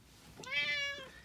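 A single cat gives one clear, drawn-out meow up close, rising and then falling, with nothing else around it.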